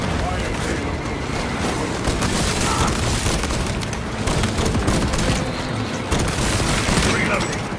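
In a video game, a shock grenade is thrown amid dense gunfire, with a loud, continuous clatter of shots and booming impacts packed tightly together throughout.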